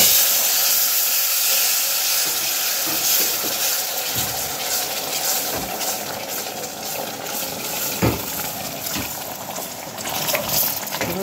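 A pot of syrup and flour kachi bubbles and hisses steadily on the stove, a continuous close sizzling boil with occasional soft pops and stirring knocks.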